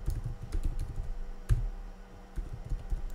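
Typing on a computer keyboard, a close burst of irregular key taps with a few louder strokes and a brief pause midway, quick and uneven rhythm, no voices.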